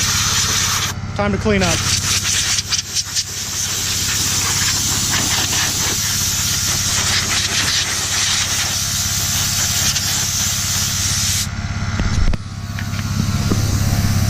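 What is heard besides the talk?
air blower on a coil hose from a VIAIR compressor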